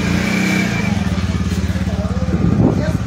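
A motorcycle engine pulses rhythmically and revs up near the end as the bike is readied in snowy Kalimpong, with people talking over it.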